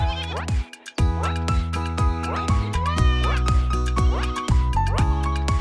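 Several cartoon sheep bleat in quick succession, each short quavering call sitting over lively, continuous background music.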